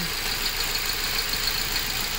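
A Ford Focus engine idles steadily while misfiring on three cylinders, giving a continuous, fairly quiet hum with a slightly uneven texture and no talking.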